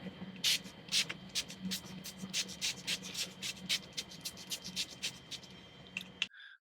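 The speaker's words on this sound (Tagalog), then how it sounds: "I'm just gonna set everything with this spray." Short hissing bursts of makeup setting spray, many quick pumps in a rapid uneven rhythm, close and fairly loud, ending with a brief click.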